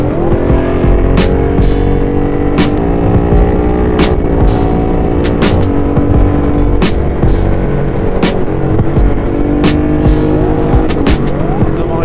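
A loud Ducati motorcycle engine running steadily with a raspy aftermarket exhaust note, with short sharp bursts and pops punctuating the drone throughout, on a group ride.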